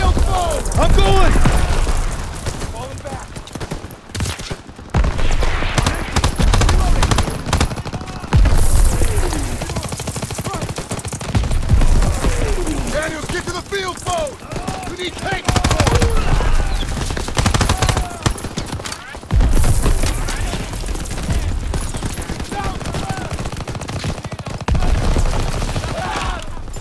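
Sustained bursts of rifle and machine-gun fire rattle through a World War II battlefield in Call of Duty: WWII, with booming shots and shouted voices over the din.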